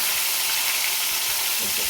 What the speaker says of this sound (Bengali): ফুলকপিগুলো ভাজছি, ফুলকপিগুলোকে ভেজে ভেজে তুলে রাখবো।